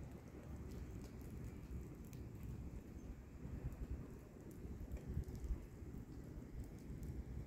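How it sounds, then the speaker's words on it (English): Steady rain falls during a severe thunderstorm in southeastern Pennsylvania with a soft, continuous hiss, faint and even throughout, with no voices. "it's raining now."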